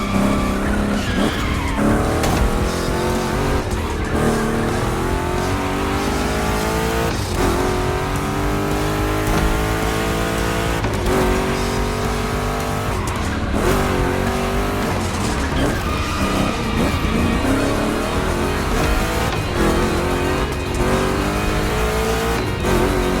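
Two big-block Chevy cars racing in the driving game The Crew Motorfest, with loud, continuous engine roar rising and falling through gear changes, and tire squeal and skids as they slide through turns.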